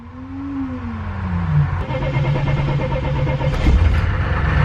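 A truck engine being prepared for drifting cranks and catches. A low, steady mechanical drone rises and holds, then grows rougher and louder with revving toward the end, with no talk over it.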